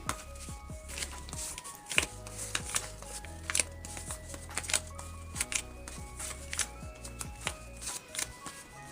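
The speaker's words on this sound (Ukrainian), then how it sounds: "у нас пакетики на розпаковку" Small plastic surprise packets being torn open and unwrapped by hand, a busy run of crinkling, crackling and snapping close up, with brief rustles and clicks throughout and no voices.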